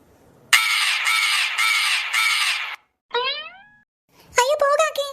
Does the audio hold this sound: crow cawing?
yes